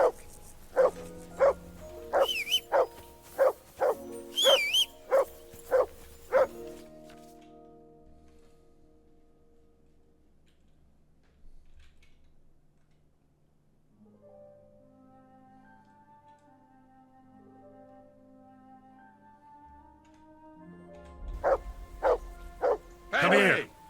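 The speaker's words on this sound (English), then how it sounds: "That barking was a pain in the ass." Dog barking in Kingdom Come: Deliverance 2, a quick run of sharp, loud barks over the first seven seconds, then a quiet stretch of music with faint voices, and another burst of barking near the end.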